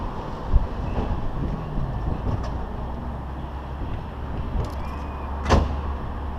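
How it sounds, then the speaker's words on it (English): A 1990 Nissan Sunny truck with a tough clutch rumbles low as it starts to drive off, with a couple of sharp clunks and a rattle over the steady engine drone. "we're gonna go for a spin in the Sunny Truck with a tough clutch"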